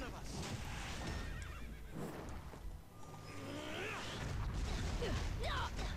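A horse whinnies a few times amid a busy soundscape from the game Epic Seven during a guild war battle, with creaking, mechanical noise and some background voices.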